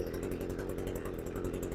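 A gas-powered power sweep with a brush attachment, started at half throttle and warming up: a steady, loud small-engine drone with a low throbbing pulse that runs unbroken through the clip.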